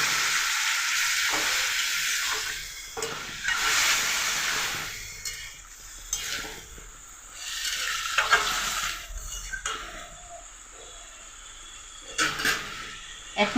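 Vegetarian papaya curry with grated coconut sizzles steadily in a pan with a little added water as it cooks down, a continuous frying hiss with occasional stirring scrapes and brief quieter gaps, close and fairly loud.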